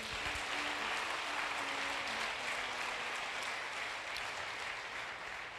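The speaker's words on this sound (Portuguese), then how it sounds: "Dê um aplauso mais uma vez ao Senhor." A church congregation claps together in worship, a steady wash of applause heard from a distance with a faint tone lingering underneath.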